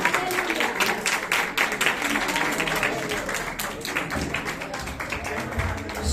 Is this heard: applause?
yes